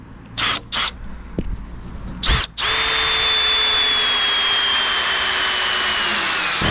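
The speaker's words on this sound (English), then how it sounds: "just fix this rafter now. I'm putting a pilot. I'm using these hex screws." Power drill driving hex screws into a roof rafter: a few short trigger bursts, then a sustained loud, high whine as the screw goes in, with a rising motor pitch, recorded close up.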